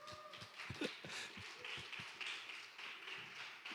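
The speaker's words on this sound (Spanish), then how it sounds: "un aplauso, por favor" Church service audience breaking into applause, a steady dense patter of many hands clapping at a faint, distant level with scattered sharper claps.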